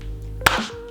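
A single sharp, snappy boxing jab impact lands once in the middle, brief and close against a quiet background hum.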